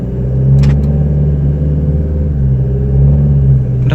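Low, steady rumble of a Toyota Fortuner's idling engine through a replaced exhaust pipe, close and loud with a slight swell in revs, no talk.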